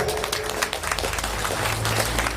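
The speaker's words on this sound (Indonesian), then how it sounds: "Tepuk tangan yang meriah" Lively audience applause at an Islamic study gathering, dense continuous clapping from a crowd close by, with little talk.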